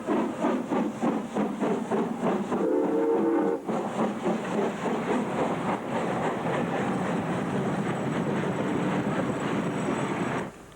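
The Flying Scotsman steam locomotive chuffs rhythmically and loudly up close in the Australian outback in 1989, with rapid exhaust beats, a burst of hissing steam midway, and a constant rumble.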